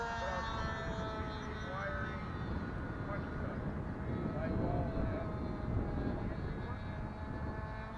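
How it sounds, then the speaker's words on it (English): Nitro-powered RC warbird model airplane in flight at an RC flying field, a continuous buzzing engine drone that rises and falls slightly as it passes at a distance. "Got a nitro warbird in the air."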